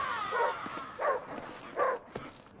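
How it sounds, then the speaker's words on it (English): A dog gives three separate, spaced barks that yip and whimper, moderately close and fairly loud, with no talking. "Is that dog looking at us?"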